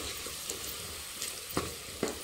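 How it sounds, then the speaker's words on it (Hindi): Pumpkin pieces frying in a pan, a faint, continuous sizzle with a few soft scraping stirs close by. "चलिए इसको अच्छे से फ्राई करेंगे गाइस।"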